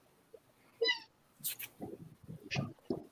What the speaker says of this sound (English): Somebody's kitten squeaking?